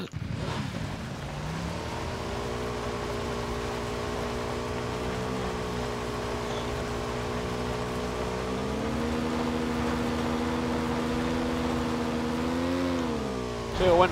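A motorcycle engine in PUBG idles and then revs with a steady buzzing drone that climbs in pitch toward the end, loud and close, with no voices over it.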